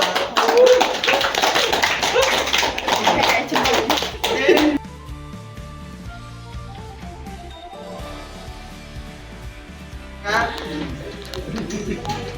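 Secondary school class in a microteaching lesson clapping hands together, a burst of brisk clapping that stops abruptly, quiet room sound, then a shorter round of clapping returns near the end, with students' voices audible.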